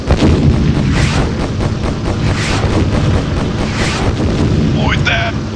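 Torpedoes and bombs explode in the Beyond Pearl Harbor video game, loud repeated booms and blasts rolling one into another, with a short whistling game effect near the end.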